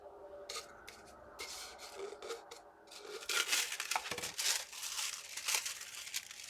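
Paper tag being cut for a crafting project, with crinkling, rubbing and scraping of paper and blades, quiet at first and growing louder and busier in the second half, no talking.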